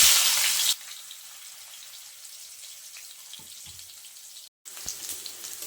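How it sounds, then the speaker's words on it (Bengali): Bitter gourd pieces fry in hot mustard oil for a mixed-vegetable chorchori, making a soft continuous sizzle with faint crackles, briefly cut by a short gap near the end. "এরপর উচ্ছেটা ভেজে নেব।"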